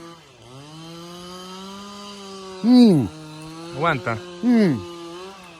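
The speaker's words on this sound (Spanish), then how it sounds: "Ya está con sonido de motosierra" A chainsaw idles steadily outdoors at a Nicaraguan cookout, then revs in three sharp bursts near the end, loud and close; someone speaks briefly.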